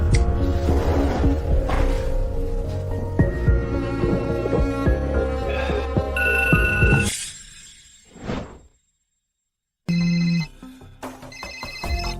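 A telephone ringtone sounds in the middle of the night, loud and melodic over a dense backing of music. It cuts off, then returns briefly after a short silence.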